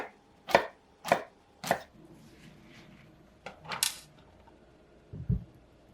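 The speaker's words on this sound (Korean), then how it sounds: "새송이 버섯은 애호박과 비슷한 크기로 써세요." A knife cuts king oyster mushroom on a board with three even, crisp chops, then a couple of softer cuts and a dull knock after a pause.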